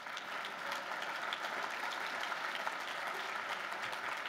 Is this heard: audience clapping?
yes